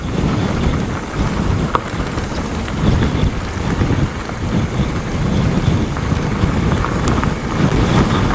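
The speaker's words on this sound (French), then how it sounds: "Oh, il y a du vent." Strong wind buffets the microphone in a steady, roaring rumble, gusting continuously with no voices, like standing in a blustery storm.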